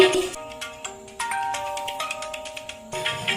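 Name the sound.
phone ringtone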